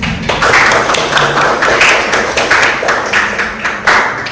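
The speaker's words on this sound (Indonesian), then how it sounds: "Tepuk tangan buat kita." A small group in a classroom session claps their hands together loudly and close by, a brisk run of sharp, rhythmic claps that continues steadily for several seconds.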